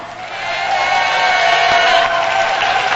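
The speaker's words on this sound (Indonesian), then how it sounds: "saya ajak sekarang semua untuk tepuk tangan, silakan" Audience applause at a televised Indonesian election debate, a dense steady wash of clapping throughout, fairly loud and close, with crowd murmur mixed in.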